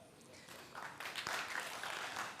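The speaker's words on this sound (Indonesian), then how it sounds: "Ini tepuk tangannya bisa sekian puluh kali nih" Quiet, diffuse applause from a studio audience on the Indonesia Lawyer Club talk show, greeting the West Sumatra governor's pantun recital; the clapping swells slightly midway and holds as a soft, continuous wash.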